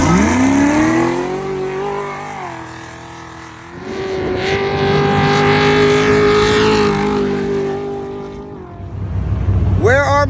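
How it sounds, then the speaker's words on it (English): A turbocharged Honda Ridgeline off-road race truck revs hard at the start of a desert race, its loud engine note climbing, holding and dipping between gear changes, with another roar building near the end. "turbocharged Honda Ridgeline"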